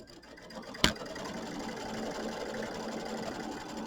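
An embroidery sewing machine hums steadily as it starts quilting a Kimberbell mini quilt, preceded by a single sharp click, then a continuous moderate whir throughout with no speech.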